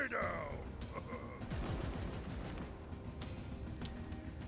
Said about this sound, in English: That's a heavy gun, I think.